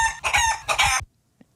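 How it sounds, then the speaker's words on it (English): A rooster crows loudly and up close in two long bursts, with clucking between them, then a single faint cluck after a short silence. "That's a chicken, right?"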